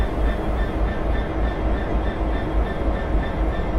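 A Freightliner Class 66 freight train rolling on the Great Eastern Main Line in Train Simulator 2015, a steady loud rumble of wheels and engine with faint rail squeal, continuous throughout.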